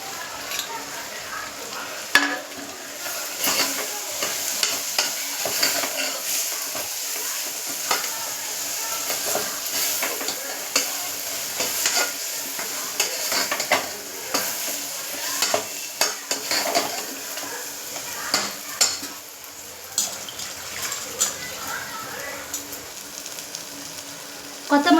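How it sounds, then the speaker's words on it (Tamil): Coriander, mint and curry leaves frying in oil for a mushroom biryani, giving a long continuous sizzle with scattered stirring clinks and scrapes, moderately quiet and close, with no talking. "கொத்தமல்லி, புதினா, கருவேப்பிலை எல்லாமே நல்லா ஃப்ரை பண்ணியாச்சு"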